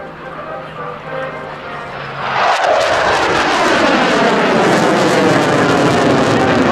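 Vintage Vampire jet and CF-18 Hornet passing overhead at a twilight airshow in London, a distant rumble swelling into a loud roaring flyby with a falling Doppler sweep that lingers as a sustained jet roar.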